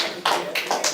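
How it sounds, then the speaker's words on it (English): An audience at a community education talk bursts into a few loud, short rounds of clapping in quick succession, close and sharp. "Now you can clap all you want"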